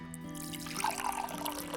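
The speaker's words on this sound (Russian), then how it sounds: "В жаровню или сковороду вливаю воду." Water trickles and splashes steadily into a roasting pan, a continuous liquid pour with small dripping sounds, close by.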